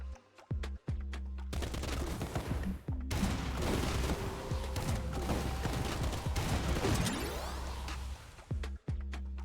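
Grenade launcher firing in a shooter video game, with loud rapid bursts of gunfire and booming blasts packed densely together, framed by a few sharp isolated shots at the start and end.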